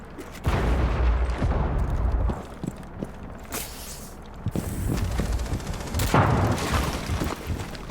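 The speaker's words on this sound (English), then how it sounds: "So double kill with the nade" A grenade blast in a Rainbow Six Siege match, heard as loud booming bursts and gunfire-like cracks within busy, dense game noise across the clip.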